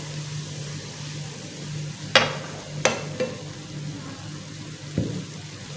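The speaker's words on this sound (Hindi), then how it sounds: "अभी कर लेते हैं प्याज़ों को हाफ ब्राउन, इससे ज़्यादा कुक नहीं करना।" Onions sizzle softly in ghee in a pan under a low, steady hiss, with a few distinct scraping clacks as a utensil stirs them.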